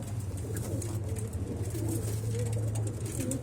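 Domestic pigeons coo in a loft with a nest of eggs, a low steady throaty murmur that runs throughout, close and fairly loud, with faint chirps above it.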